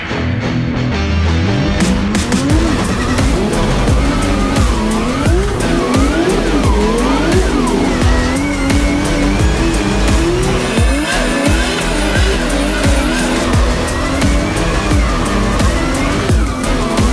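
Nissan Silvia S15 drift cars, one a 900bhp championship car, running in tandem on fresh tyres, with loud continuous engine roar rising and falling through gear changes and sustained tyre squeal throughout, close and intense.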